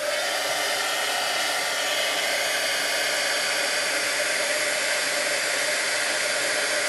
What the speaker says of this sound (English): Very quickly, I'm going to heat this one for you.